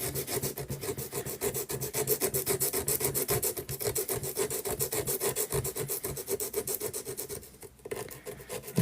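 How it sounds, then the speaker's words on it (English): Fine emery board rubs over a cement rendered wall in steady, rhythmic back-and-forth strokes, close and continuous, with a brief pause near the end. "I'm just going over the whole lot with fine emery board and just smoothing it out a little bit."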